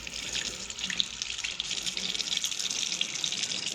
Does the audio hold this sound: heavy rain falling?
no